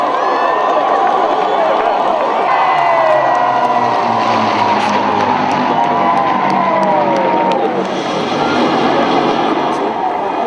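Enormous crowd outside the palace balcony cheers loudly and continuously for the royal newlyweds' kiss, a steady roar with rising shouts and whistles.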